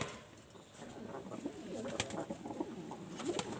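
Pigeons coo softly and repeatedly at close range while coming to drink water, with faint rustling and light movement around them and no talking.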